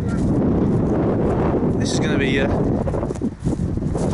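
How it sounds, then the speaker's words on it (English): Strong coastal wind buffets the microphone at WW2 ammunition bunkers near Dover, a loud, continuous roaring rumble throughout, with someone talking over it. "Very windy as you can hear."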